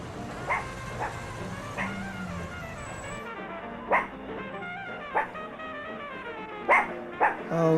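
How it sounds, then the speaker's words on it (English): A dog barks about half a dozen times at irregular intervals, each bark sharp and moderately close, over a quiet background. "Oh, doggy."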